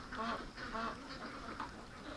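Young Muscovy ducks make a few short, low quacks nearby, spaced notes over a quiet background.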